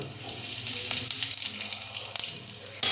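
Asafoetida (hing) sizzles as it drops into hot cooking oil with cumin, for a spiced eggplant curry; a steady close hiss of frying runs throughout, with a brief louder crackle near the end.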